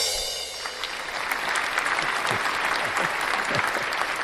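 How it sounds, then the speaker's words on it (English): Canned applause sound effect, a steady burst of clapping and cheering from a crowd that swells after a brief quieter start and carries on evenly at full level, with no talking over it. "so that gets a drum roll and some applause"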